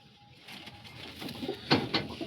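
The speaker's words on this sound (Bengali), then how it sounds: "এগুলো কিন্তু সব ইম্পোর্ট করা পায়রা লুধিয়ানা থেকে" Imported Ludhiana pigeons in a loft, with soft, low bird sounds and light rustling that grow a little louder toward the end, heard close by and faint.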